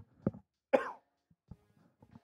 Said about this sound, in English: I got to cough really badly.